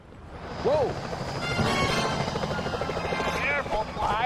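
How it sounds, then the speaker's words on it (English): Security helicopters in the video game Sly Cooper: Thieves in Time thrum with a rising rotor chop that grows steadily louder, mixed with cartoonish action sounds and swooping tones, while characters speak. "Those security choppers are bad news."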